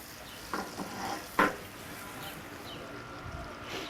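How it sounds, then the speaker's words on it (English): Soft sizzling of mango frying in a pan, with a couple of sharp scrapes as it is stirred, fairly close. "start frying the mango"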